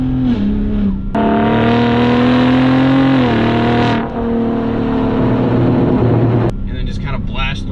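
A 2022 third-generation Ford Raptor V6 truck driving with its loud, raspy trombone-like exhaust, engine note rising and falling through a couple of downshifts at close range with the rear window open.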